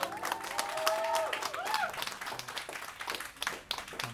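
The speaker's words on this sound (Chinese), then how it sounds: "麻烦掌声加尖叫加抓头好不好？" A concert crowd at Tiehua Village claps steadily and loudly for a live duo, with high shrieks and whistling cries rising over the applause before it thins into scattered clapping and cheers.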